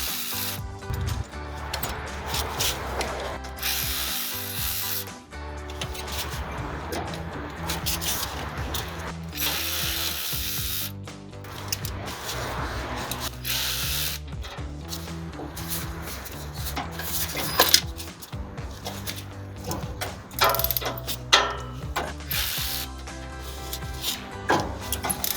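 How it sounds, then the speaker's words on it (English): Ratchet working loose the thread-locked CV joint bolts on a Jeep Wrangler driveshaft, repeated clicking and grinding strokes in steady cycles close by, with no speech. "So you may have to use a ratchet to break some of those loose."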